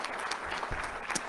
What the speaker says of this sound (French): Je pense qu'on peut applaudir de tout notre cœur.